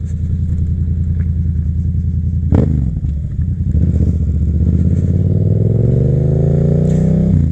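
A 2021 Yamaha MT-07 motorcycle engine runs close and loud as the rider eases the throttle, a steady low rumble that dips briefly then rises smoothly in pitch as it builds, with no talk.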